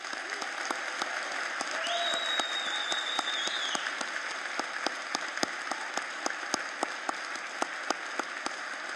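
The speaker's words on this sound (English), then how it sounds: "can we please have a strong round of applause for these BCIT graduates?" Audience at a BCIT convocation ceremony applauding graduates, a dense, even wash of clapping from a large crowd, with a few sharper claps standing out and a brief whistle-like tone partway through.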